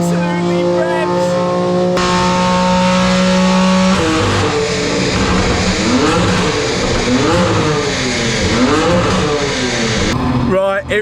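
A BMW M4 engine on a dyno run, revving hard with repeated rising and falling sweeps of loud mechanical engine roar, after a steady tonal idle hum at the start.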